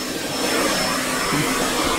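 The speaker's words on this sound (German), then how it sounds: "Und dann kann ich staubsaugen." A vacuum cleaner runs inside a Morelo Palace motorhome, giving a loud, steady, close-up whooshing roar with a high whine that holds constant throughout.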